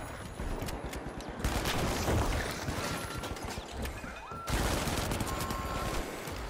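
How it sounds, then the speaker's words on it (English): Sentry guns fire in the video game The Finals, dense continuous automatic gunfire and impacts, loud and close, with a sharp surge partway through. "sentry guns are crazy"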